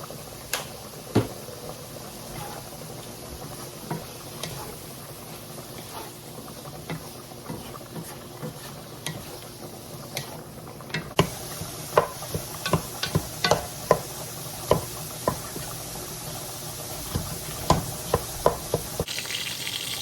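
Breaded squash fries in hot oil, giving a steady sizzle with scattered crackles and pops that grow denser and louder in the second half, heard close with no talking.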